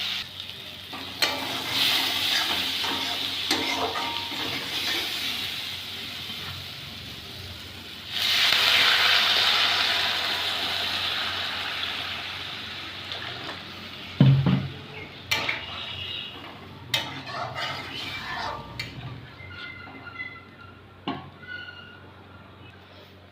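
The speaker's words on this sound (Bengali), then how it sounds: "ঝোলটা ফুটতে শুরু করেছে" Curry gravy with light spices and vegetables starting to boil in a pan, a steady soft sizzle and bubbling with occasional clinks of a spoon against the pan.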